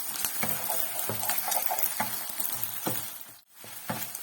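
Eggs frying in a pan while a spoon stirs and breaks them up, with a soft sizzle and regular tapping, scraping strokes close by, briefly dropping out near the end.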